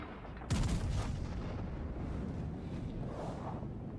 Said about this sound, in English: Getting another volley out on the York.